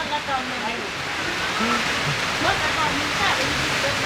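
Heavy rain hammering down outside a roadside Thai food stall where duck is being grilled, a dense continuous wash with scattered voices talking faintly over it.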